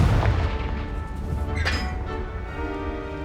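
A Confringo blasting spell explodes in the Hogwarts Legacy video game, a booming burst with rumbling low end and a bright crack near the middle, set against dense game ambience.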